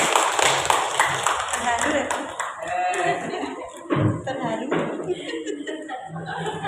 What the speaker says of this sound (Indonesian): Sekali lagi aplaus buat Ibu Sumarse.